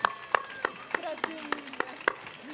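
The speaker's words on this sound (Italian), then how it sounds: "Che bello ricevere gli applausi." Sparse, rhythmic hand clapping at La Corrida Valdostana, a summer amateur talent show in Saint-Vincent, with sharp claps spaced about a third of a second apart under a talking voice.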